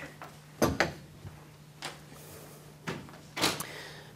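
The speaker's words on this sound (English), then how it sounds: "I'll just get the door" Door handled indoors, with a cluster of knocks and clunks followed by scattered softer thuds and a final pair of firmer bangs, moderately close over a steady low hum.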